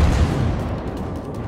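Warship guns in World of Warships fire with a heavy, deep boom that rolls into a long, fading low rumble.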